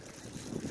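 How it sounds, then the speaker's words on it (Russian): Wind roars steadily during a snow blizzard in Odessa, a brief continuous rush of buffeting gusts hitting close to the microphone. "Ох, и шумит ветер."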